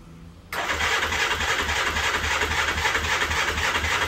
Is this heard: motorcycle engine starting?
yes